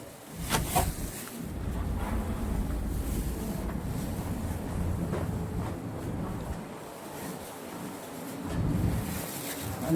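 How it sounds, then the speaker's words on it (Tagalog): Strong cold wind outdoors in Finland, a steady rushing roar buffeting the microphone with low rumble and gusts that swell near the start and end, no one speaking. "nakikita ba niyo yung halakas ng hangin?"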